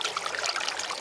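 Water runs steadily from a tap while a frog is cleaned for cooking, a continuous close splashing trickle with no voices.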